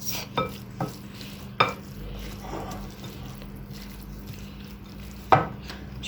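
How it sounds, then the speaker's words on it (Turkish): Börek filling being stirred in a bowl, a close, soft scraping and mixing with a few sharper clicks of the spoon against the side, over a low steady hum, with no talk. "İyice karıştırıyoruz."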